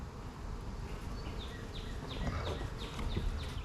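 Honeybees drone in a dense, steady hum from a weak hive during an open inspection, close and continuous, with faint higher whines from individual bees flying past and no voices.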